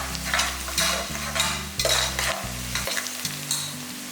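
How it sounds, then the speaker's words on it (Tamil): Lengthwise-sliced onions sauté with a little salt in a pan for vegetable biryani, producing a continuous close sizzle broken by repeated spatula scrapes and stirring strokes, with no speech. "இப்போ கொஞ்சமாக மட்டும் உப்பு சேர்க்குறேன் வெங்காயம் வதங்குறதுக்கு"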